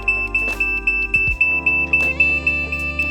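A ThermoPro cooking thermometer gives an alert as a rapid series of about a dozen sharp, evenly spaced electronic beeps, close and clear over a held tone.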